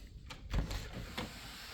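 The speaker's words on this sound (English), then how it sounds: "the door opens and closes nicely" A repaired interior door with new trim and insulation is swung open and shut, giving a short soft thud with a few light clicks and rattles against quiet room tone.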